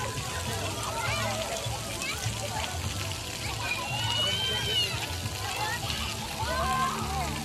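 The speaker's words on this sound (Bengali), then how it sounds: "ফ্ল্যাশ প্যাড হচ্ছে এখানে নোজল থাকবে বা ওয়াটার ফাউন্টেন থাকবে বা অনেক ডিভাইস থাকবে যেটা পানি স্প্রে করবে।" Splash pad fountains and nozzles at a water park spray and splatter steadily, with children's voices and other talk mixed in throughout.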